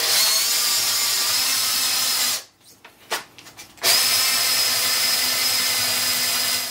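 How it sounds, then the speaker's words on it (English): Power drill running in first gear with a 13 mm bit, workpiece clamped to a table; a loud steady whine runs throughout, broken by a short quieter stretch of sputtering bursts midway before the steady drone resumes. "I'll also set the drill to first gear to give it an easier time."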